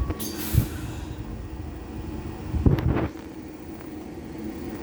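Inside a metro station, metro train doors thump shut with a couple of heavy clunks over a steady rumbling hum of the waiting train.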